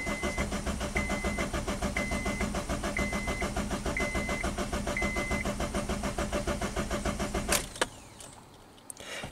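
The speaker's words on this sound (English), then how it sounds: "let's crank the engine over and get some data on the screen" A car engine cranks over on the starter during a diagnostic test, giving a steady rhythmic chug of even pulses for several seconds before it stops with a brief clunk and fades to quiet.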